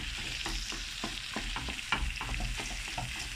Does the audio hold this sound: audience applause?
no